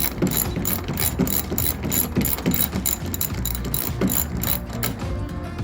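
Ratchet wrench removing bolts from the grille of a 2012 Ram 1500, a rapid steady clicking of the pawl repeating in quick strokes, close and loud throughout.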